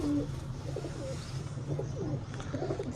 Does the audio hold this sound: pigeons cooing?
yes